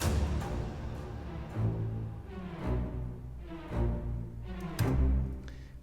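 Sampled string runs from Cinematic Studio Strings 2 played an octave down, a series of rapid sweeping scalar flourishes with repeated accented attacks about every second, full and wide, with no voices.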